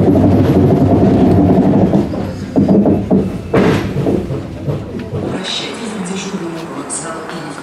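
Passenger train No. 354 on the Adler–Perm route pulls into Volgograd station, with a loud rolling rumble and rhythmic wheel clatter that eases as it slows, while people talk nearby.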